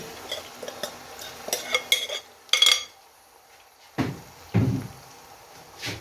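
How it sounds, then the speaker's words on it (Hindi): Marinated beef dropped into a hot tempering in a cooking pot, giving a few close scraping and clattering bursts of metal utensils against the pot, with brief pauses between them. "जो हमने मैरिनेट किया हुआ है बीफ वो ऐड कर देंगे"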